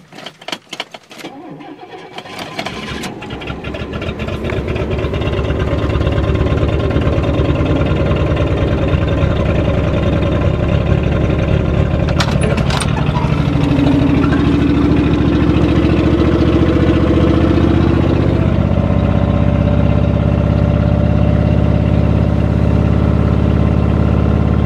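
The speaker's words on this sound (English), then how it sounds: "Open that choke up just a wee bit. Maybe she'll run a little bit." An old Chevy S10 truck cranks and catches after its choke is opened, then settles into a loud, steady idle that runs on close by for over twenty seconds, with no one speaking.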